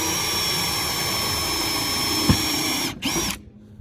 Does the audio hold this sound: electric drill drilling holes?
yes